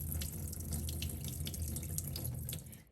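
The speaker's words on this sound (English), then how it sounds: "Now thoroughly rinse the dry shrimp, rice, and mung bean." A kitchen tap runs steadily into a sink for rinsing dry shrimp, rice and mung beans. The close, continuous splashing has small shifts as the food is moved under the stream, and it cuts off at the end.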